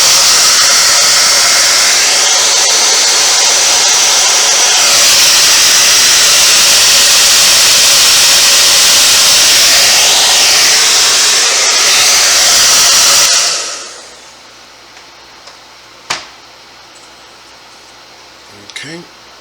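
A hair dryer blows a loud, steady roar across a painted latex mask for about thirteen seconds, then cuts off, leaving near silence with a few faint knocks.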